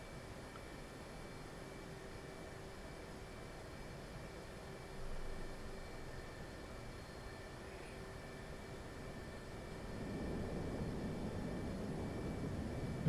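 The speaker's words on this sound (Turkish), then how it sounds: "Diğer F14'te kalkış yapıyor. Ve fırlattılar." An F-14 catapult launch off an aircraft carrier deck in DCS World, heard as a steady, fairly faint jet engine roar that swells and grows louder toward the end, with no talking.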